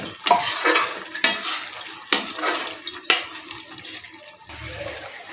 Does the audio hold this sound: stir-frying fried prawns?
yes